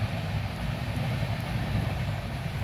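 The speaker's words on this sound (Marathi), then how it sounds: "आज मी शेतात आली तर आज रेल्वेचा व्हिडिओ आला बरं का" A train rumbles steadily past farm fields, a continuous heavy low roar of wheels and carriages filling the whole stretch, close and loud with no voices.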